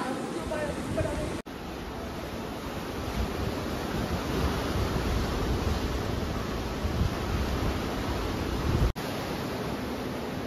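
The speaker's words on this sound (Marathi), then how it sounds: "लाटांचा आवाज पण एकदम छान येतोय." Sea waves washing onto the shore on the Konkan coast near Sindhudurg, a continuous broad surf roar that swells gently, steady and fairly close, without talk.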